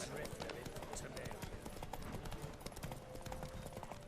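Rapid hoofbeats from a horse in The Witcher 3: Wild Hunt pound in a steady galloping rhythm, continuous and fairly close, with a busy rushing background under them.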